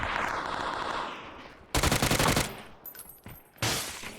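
Gunfire in PUBG crackles close and loud: a sustained rapid automatic burst, then scattered shorter bursts and a final volley, with an engine-like whine before the first shots.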